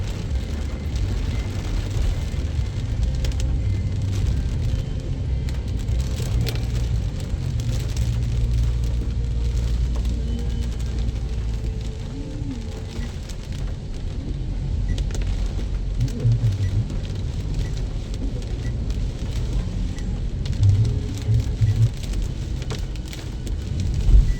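Heavy rain and strong wind in Makassar city, a dense continuous roar of downpour and gusts with passing traffic rumble beneath, steady and loud for the whole stretch with no talking.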